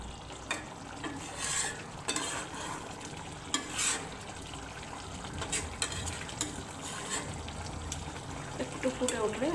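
Tangra fish curry with ground roasted cumin being stirred in a pan, a low bubbling simmer broken by sharp scraping clicks of the spoon against the metal, with someone talking over it.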